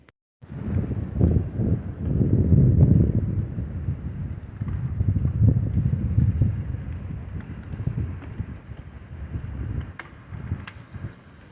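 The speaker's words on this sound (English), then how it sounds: "good gust of wind is coming through." Winter wind gusts rush steadily through trees, a broad low roar swelling and easing over several seconds, close and fairly loud with no voices.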